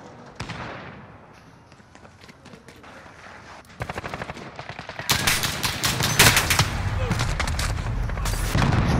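Rapid bursts of video game gunfire crackle in quick volleys, growing louder and denser toward the end, with faint voices underneath.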